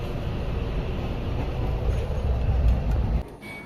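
Inside a carriage of the Agartala–Rani Kamalapti Express, a dense, steady low rumble and rattle of the running train fills the space, easing slightly near the end.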